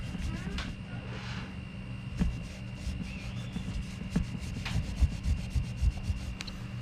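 Lime scale being scrubbed and rubbed off an outdoor security camera, a steady close scratchy scouring that runs throughout with a few harder strokes, over a low background hum.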